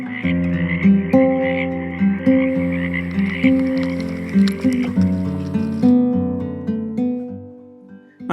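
Pacific tree frogs call in a wetland on the west coast of North America, with repeated rhythmic croaks pulsing steadily close by, loud and layered with many overlapping voices and no talking.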